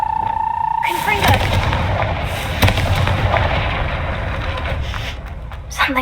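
A fiery blasting spell in Hogwarts Legacy erupts as a loud, close burst, followed by several seconds of rumbling, crackling debris, with a voice heard briefly.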